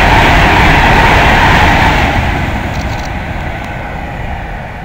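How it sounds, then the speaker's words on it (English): Pendolino unit 124 sweeps through Nuneaton station, a loud continuous rushing roar of train noise that slowly fades as it moves away. "Another Pendolino coming through."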